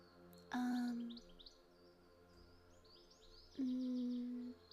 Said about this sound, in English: I don't think that birdsong is relaxing